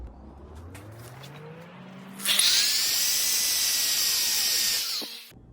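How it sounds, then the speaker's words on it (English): An electric drill boring a hole in a Harbor Freight tool, spinning up after a quiet mechanical hum and whining loudly and steadily for about three seconds before winding down, close and alone. "I am going to drill a hole down here"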